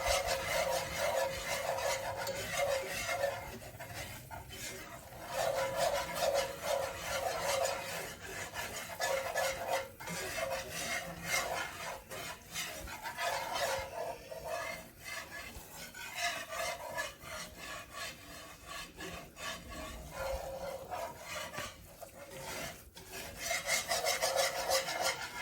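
Enchilada sauce ingredients stirred in a pan over low heat, a steady scraping and rubbing of a utensil against the pan surface in repeated strokes, continuous and close without talk.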